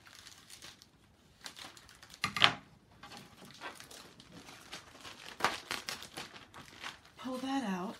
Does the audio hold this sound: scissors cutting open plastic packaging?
yes